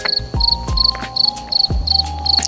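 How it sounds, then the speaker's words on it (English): Crickets chirp in regular short trills, one repeating pulsed burst after another, loud and close, with occasional low thumps underneath. "okay, and crickets."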